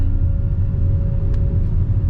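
Road traffic is backed up in a jam after an accident near Tiruvannamalai. A constant close engine rumble drones throughout, loud and unbroken, with no voices over it.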